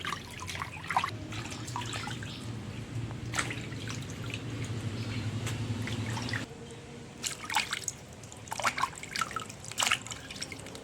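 Chicken skin being washed and rubbed by hand in a bowl of water, steady sloshing and splashing with scattered drips and trickles, close and continuous, quieter in the second half.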